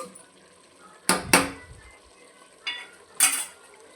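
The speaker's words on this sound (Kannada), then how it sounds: "ಈಗ one table spoon garam masala ಹಾಕ್ತಾಯಿದ್ದೀನಿ ನೋಡಿ ಚೆನ್ನಾಗಿ ತಿರುಗಿಸ್ಕೊಳ್ಬೇಕು" Chicken fry being stirred with garam masala in a heavy-bottomed pot, a few scraping spoon strokes with brief sizzling bursts over a quiet simmer, close by and with no talk.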